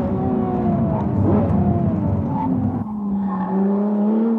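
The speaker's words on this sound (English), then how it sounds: "just listen to the noise of that V12" A V12 race car on a hot lap roars loud and close, engine pitch rising and falling through corners while tires squeal briefly, then a sharp gearshift drops the note before it climbs again.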